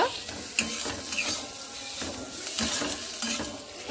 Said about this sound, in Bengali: এবার আমি সেই ডিমের পুরগুলো সে বাঁধাকপির উপরে দিয়ে দিব, দিয়ে আমি হালকা করে নেড়ে নেব।